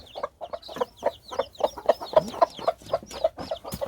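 A Cheonggye hen clucks repeatedly in a steady rhythm close by during natural hatching, with softer chirps and peeping from six small chicks mixed in around her.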